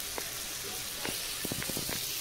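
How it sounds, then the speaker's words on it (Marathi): Masala roasting in a pan for a chicken dish gives a faint, steady sizzle with scattered soft crackles and pops, heard from close by at low volume. "ते मसाला भाजते मी. अर्धा भाजून झाला आहे माझा."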